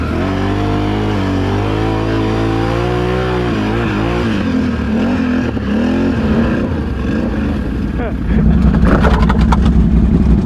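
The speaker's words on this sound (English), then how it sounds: "I think this motor's about to blow." A four-wheeler ATV engine revs hard and strains, its pitch rising and wavering before turning rough and sputtering toward the end, loud and close.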